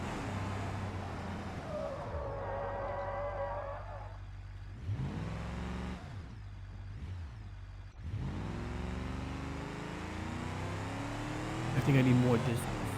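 A heavy car in the BeamNG.Drive driving game speeds up on a test grid, its engine note climbing in repeated rising sweeps. A person talks over much of it, and a louder burst comes near the end.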